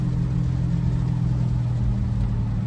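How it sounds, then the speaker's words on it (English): Audi S7 twin turbo V8 with bigger turbos, a muffler and resonator delete, running on E85, gives a deep, steady engine rumble from inside the moving car, strong and low with slight swells. No voices. "I'm driving an Audi S7 twin turbo V8."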